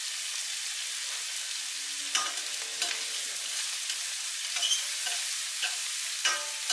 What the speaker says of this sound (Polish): Machanie nożem po patelni.